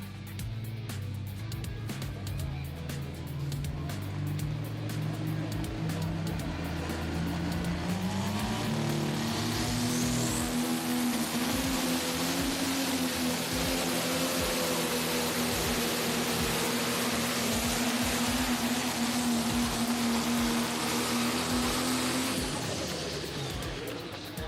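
A pro stock drag race car makes its run, a loud sustained engine roar climbing in pitch through the gears for over twenty seconds before cutting off, heard from a distance with crowd and track noise beneath.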